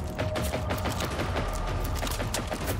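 Rapid gunfire rattles steadily throughout a fight in the open-world shooter Generation Zero, a continuous stream of sharp shots over a rumbling low background with no voices.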